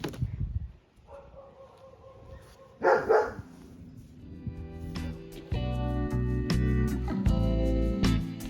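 Several dogs bark and yip outdoors, agitated by nearby monkeys, with repeated overlapping barks that build into a loud, sustained chorus toward the end.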